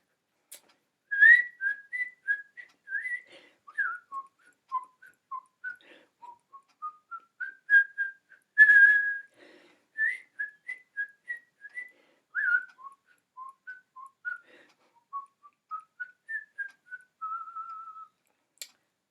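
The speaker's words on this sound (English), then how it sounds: "Now I'm going to whistle it high because that's the only place I can whistle." A person whistles a lilting tune alone in a quiet room, a clear, high, melodic line of short phrases and held notes lasting nearly twenty seconds.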